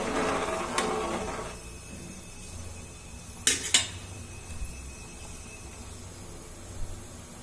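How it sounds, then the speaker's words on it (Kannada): Rice stirred with masala in a cooker for vangi bath makes a few sharp metallic clinks and light scrapes against a soft steady hiss, with one clink early and a quick pair midway. "ಈಗ ಅಕ್ಕಿನ ಚೆನ್ನಾಗಿ ಮಸಾಲೆ ಜೊತೆ ಮಿಶ್ರಣ ಮಾಡೋಣ."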